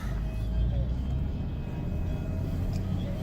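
A 1997 BMW E39 528 sedan cruising smoothly, its steady low engine drone and road rumble filling the cabin at an even level throughout, with no talk over it.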